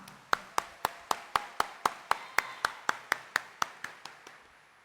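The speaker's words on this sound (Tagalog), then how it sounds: "At bigyan natin lalo siya ng mas malakas na palakpak." Applause during a Christmas Eve Mass at Quiapo Church: a single pair of hands claps in a steady, even rhythm, about fifteen crisp claps that gradually soften toward the end.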